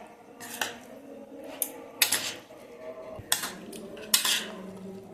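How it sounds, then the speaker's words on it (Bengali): A spoon mixing dates and other ingredients in a bowl for a healthy iftar dish, giving a few sharp clinks and scrapes against the dish at irregular intervals, close and moderately loud. "এখন চামচের সাহায্যে সবকিছু ভালোভাবে মাখিয়ে নেব।"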